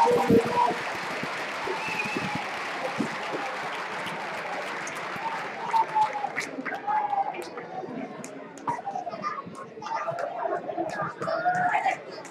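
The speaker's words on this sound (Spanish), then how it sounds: "Un fuerte aplauso." Applause from a crowd at a robot combat event, steady clapping that runs for the whole stretch with scattered voices and chatter mixed in.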